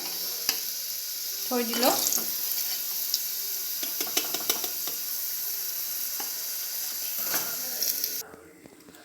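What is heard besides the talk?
onions frying in a pan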